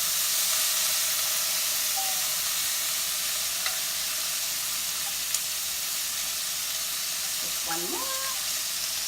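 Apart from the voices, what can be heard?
fish-pan vegetables sizzling while being stirred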